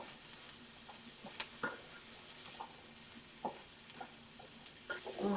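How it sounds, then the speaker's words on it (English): Half a cup of chickpeas stirred in a non-stick pan with coated vegetables, giving a faint steady sizzle broken by soft scraping taps and irregular stirring clicks. "I'm just going to throw in some chickpeas"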